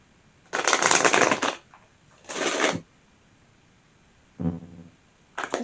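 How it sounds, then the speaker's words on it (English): Tarot oracle cards are shuffled by hand in two long riffling bursts and a shorter one, crisp and close, with quiet pauses between them. "One more shuffle."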